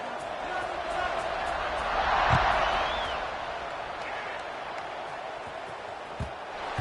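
Stadium crowd noise swells as a college football video game sets up a kickoff, a broad steady roar peaking briefly in the middle and then easing back, with a few thuds and a loud murmur throughout.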